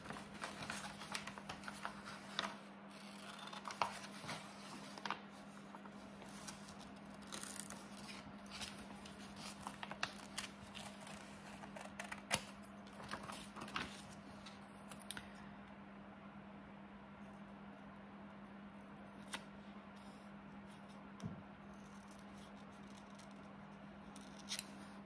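Scissors cut paper for a collage in a quiet room, many faint irregular snips and rustles scattered over a steady low electrical hum, with no talking.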